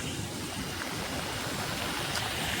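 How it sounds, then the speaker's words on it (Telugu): Floodwater rushes across a road on the way to Bhadrachalam, a steady broadband wash of flowing water, close and constant, with no speech. "వాటర్ చూడండి ఎలా ప్రవహిస్తుందో."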